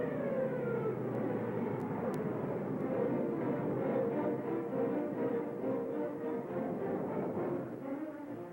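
A 1930s propeller plane, a Boeing fighter or bomber, drones steadily overhead, a low rumbling engine hum that holds constant throughout.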